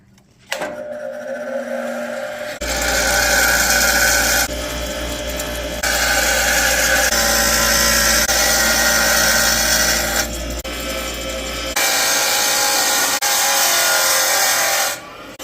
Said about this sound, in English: It looks like halfway in the grinding wheel might be the right place.